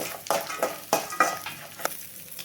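Tamarind, garlic, asafoetida, turmeric and amla fry in a pan for nellikkai thogayal while a spoon stirs them, making about six rhythmic scraping strokes over a soft sizzle.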